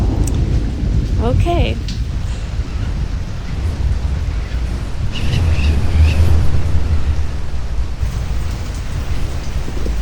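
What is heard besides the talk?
heavy rain and thunderstorm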